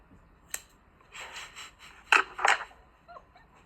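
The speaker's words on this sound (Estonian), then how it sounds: "ja ma lõikan need ära" Scissors snip something off at close range: a few crisp cuts with a faint rub between them, separate and alone, with no voices.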